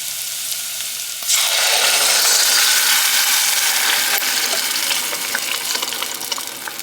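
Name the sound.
crushed tomatoes being poured into the sauce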